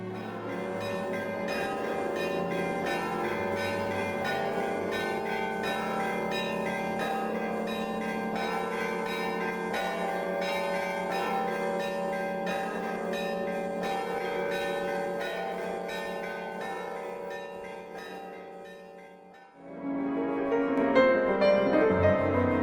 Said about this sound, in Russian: слушая могучий звон колоколов